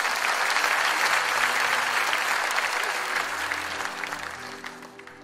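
A church congregation at a revival service breaks into sustained applause, dense clapping that stays even and then slowly thins toward the end, moderately loud in a large room.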